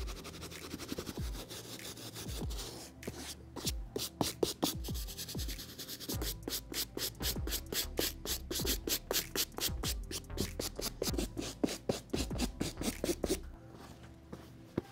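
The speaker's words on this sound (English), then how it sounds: "I'm all done using the soft brush and medium bristle brush on these uppers and midsoles" Soft and medium bristle brushes scrub the suede uppers and midsoles of Jordan 5 sneakers in quick, rhythmic strokes, close up and fairly quiet, with brief pauses between bursts of rubbing.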